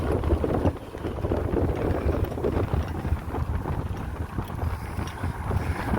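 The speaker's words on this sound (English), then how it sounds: "that wind ain't stopped blowing yet" Strong wind blowing outdoors, a steady loud rushing and buffeting across the microphone that surges and eases slightly without pause, with no voices.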